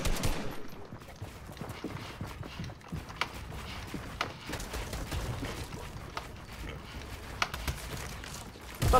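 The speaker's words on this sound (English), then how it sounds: "Stop shooting at me, bruh." Fortnite gunfire sounds as scattered bursts of shots, some rapid and some single, at moderate distance over a busy game background, without speech.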